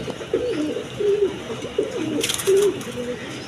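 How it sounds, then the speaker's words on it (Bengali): Pigeons cooing close by, several soft rolling coos in quick succession, with a brief rustle partway through. "এই যে দেখেন এদিকে একদম ফ্রেশ কবুতর"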